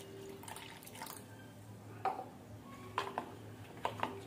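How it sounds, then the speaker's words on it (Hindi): Half a cup of water goes into a beaten batter for KFC-style chicken chizza, with soft splashes, drips and a few light clinks against the bowl, quiet and without speech. "इसमें 1/2 कप पानी ऐड"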